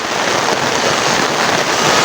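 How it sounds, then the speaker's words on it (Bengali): Heavy rain pours over waterlogged, flooded fields in a steady, dense, loud wash of noise that never lets up, with no voices. "আর যে পরিমাণ বৃষ্টি"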